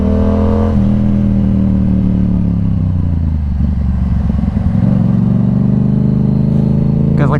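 A Yamaha R7 motorcycle being ridden around town, its engine humming up close as it shifts pitch, dips and climbs again with rising revs.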